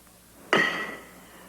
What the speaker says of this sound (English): That's the sound of a horseshoe encircling an iron stake.